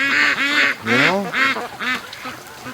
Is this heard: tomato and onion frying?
no